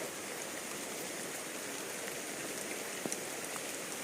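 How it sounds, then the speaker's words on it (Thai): Steady rain falls in an even hiss on a walkway through a durian orchard in Chanthaburi, Thailand, with a few louder drops plinking nearby and no voices. "นี่คือทางเดินตอนนี้ฝนตกนะครับ"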